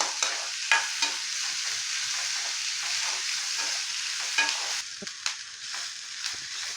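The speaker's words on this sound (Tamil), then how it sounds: "வெங்காயம் நல்லா கோல்டன் ப்ரௌன் கலர் வர்ற வரைக்கும் வதக்கணும்." Onions sautéing in hot oil with curry leaves until golden brown: a steady, close sizzle with repeated stirring scrapes and a few sharper clinks of the spoon against the pan.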